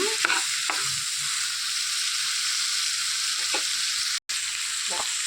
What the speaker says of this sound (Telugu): మొత్తం కలిపేసుకోవాలి కింద నుంచి పైకి.